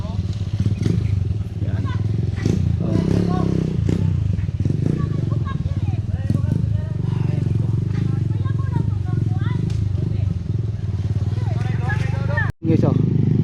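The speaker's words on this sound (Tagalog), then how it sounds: "yung mga motor yan na pupunta" Motorcycles arriving at a mango harvest among the orchard trees, engine rumble droning steadily and fairly close, mixed with voices and clatter in the background.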